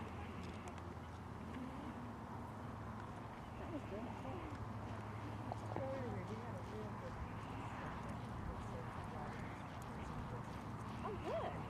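Horse hooves clip-clopping steadily during a horse show class, under ongoing commentary, with faint whinnies and a busy outdoor background.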